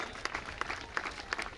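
Audience at a police training passing-out parade clapping for trainees receiving trophies, a brief burst of rhythmic, fairly close hand claps with distinct sharp peaks.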